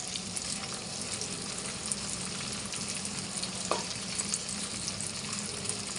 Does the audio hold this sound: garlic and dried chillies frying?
yes